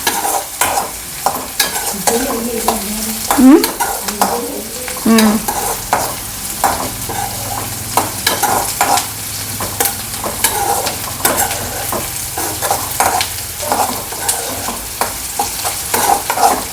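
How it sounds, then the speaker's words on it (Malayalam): Chillies fry in hot oil while being stirred, with a steady sizzle and repeated scraping strokes of a spoon across the pan, close and fairly loud throughout, no voices. "മുളകും കൂടെ ആ എണ്ണയിൽ കടന്നിട്ട് നന്നായി ഫ്രൈ ആവും"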